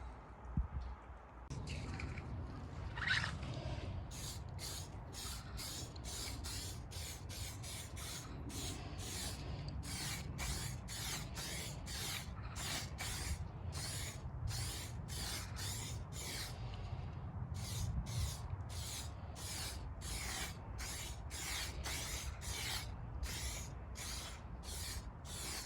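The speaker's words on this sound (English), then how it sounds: "So spray some lacquer on and see what happens." A series of short hissing aerosol sprays of lacquer onto a car paint touch-up in quick repeated bursts, fairly close, with brief pauses between them over a quiet outdoor background.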